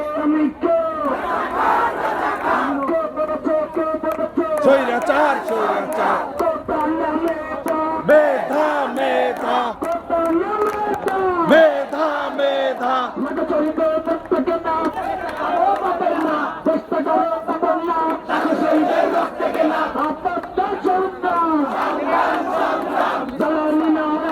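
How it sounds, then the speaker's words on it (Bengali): Protesters at a quota reform rally in Jessore, Bangladesh chant slogans in loud, rhythmic unison, a dense crowd roar rising and falling in call-and-response waves, close and sustained throughout. "এখন ঢাকা কলেজের ভাই স্লোগান দিচ্ছে"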